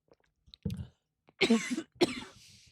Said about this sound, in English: it makes me cough when I talk for too long